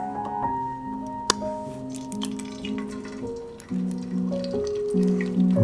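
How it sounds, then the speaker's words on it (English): An egg cracked into butter bubbling in a tin-lined copper frying pan: a soft crack, then a steady wet sizzle and popping over faint background tones, fairly close and moderate in level. "So let's crack an egg."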